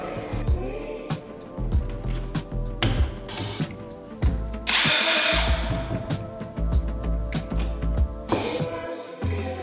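Bosch GDX 18V-200C cordless impact wrench running in loud, repeated bursts of whirring and rattling hammering, with short pauses between the runs and no speech.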